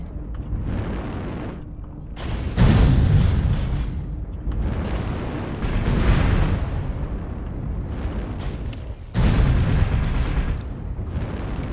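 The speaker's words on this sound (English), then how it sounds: "Airstrike activated." Repeated loud explosions from an airstrike in the MechWarrior-style battle game, several booming blasts with rumbling tails rolling in close succession.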